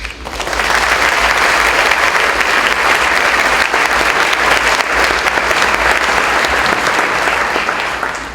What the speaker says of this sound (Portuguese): a quem peço uma salva de palmas para receber